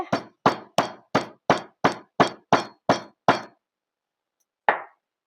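Cardamom pods cracked by tapping with a hard tool, ten sharp evenly spaced knocks in quick rhythm, then a pause and one final tap, close and clear with no talking.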